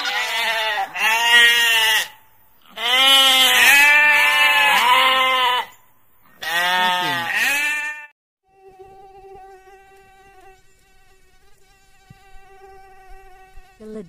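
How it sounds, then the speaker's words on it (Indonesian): Three loud, wavering sheep bleats sound close up, each lasting about a second or two with short gaps between, followed by a faint high insect-like whine. "Domba."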